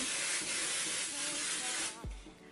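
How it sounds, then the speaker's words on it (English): Hairspray from an aerosol can sprays in one steady, close hiss lasting about two seconds, aimed at hair curled in a Hollywood style, and it cuts off near the end. "Okay, so hairspray."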